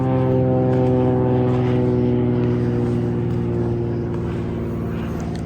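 Propeller planes drone overhead, a loud, steady multi-toned engine hum that slowly fades as they pass, with no birds or other sounds around.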